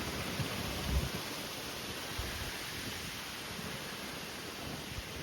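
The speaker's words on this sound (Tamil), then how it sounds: "இன்னும் மழை நிக்கல." Steady, dense hiss of heavy rain pouring continuously during a windy storm, with a few soft low thumps, no voices present.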